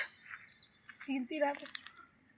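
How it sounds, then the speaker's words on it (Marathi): Parrots near a playing field call out in a short burst of bright, chirping squawks midway through, fairly close, over faint outdoor quiet. "तर बघा उडलेले पोपट."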